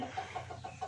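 A gamefowl rooster at a conditioning gamefarm gives a series of soft, evenly spaced clucks, fairly faint over a low background hum with no talking.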